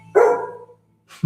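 A retriever barks in a Subaru dealership commercial, giving one close, clear bark followed by a short second yip after a brief pause.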